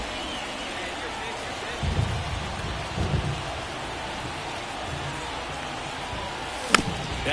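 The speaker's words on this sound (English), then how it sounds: "This rain is not letting up." Steady rain falls in the baseball video game MLB The Show 24, a broad continuous hiss running throughout, with low crowd or commentary murmurs rising briefly and a sharp crack near the end.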